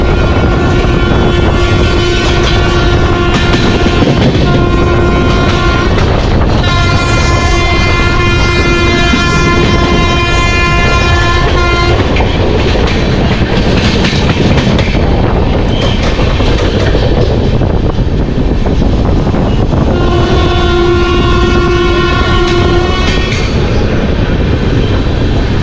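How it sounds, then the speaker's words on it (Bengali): An express train pulls into Khurda Road junction, its loud horn blaring in several long blasts over the steady rumble and clatter of the carriages, heard from on board. "আর আমাদের ট্রেন এখন খুর্দা রোড জংশন ঢুকছে।"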